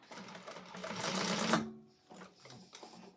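An industrial sewing machine stitches a clutch wallet in a rapid, steady whir that builds in loudness, cuts off, then resumes in short, quieter bursts, close and alone.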